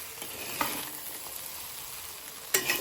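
Mushroom egg fried rice is stir-fried in a pan, giving a quiet steady sizzle broken by a few sharp scraping clinks of the utensil, close and with no talking.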